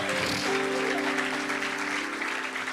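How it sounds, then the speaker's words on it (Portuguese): A church congregation claps together during worship, with a continuous, moderately loud wash of applause over sustained musical tones in the background. "dá uma salva de palmas para Jesus"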